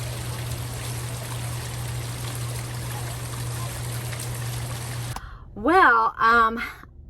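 Water trickles steadily into a garden koi pond as a continuous soft rushing wash, then stops abruptly and a voice speaks briefly at the end.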